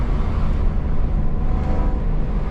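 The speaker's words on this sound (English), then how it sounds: "It has such an unique engine note. It's always unmistakably a BMW M3 E46." A BMW M3 E46 engine drones steadily from the cabin while driving at around 3,000 RPM, a dense low rumble with road noise that holds even throughout.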